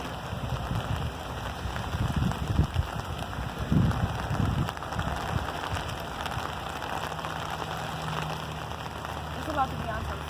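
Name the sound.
heavy summer rain pouring outside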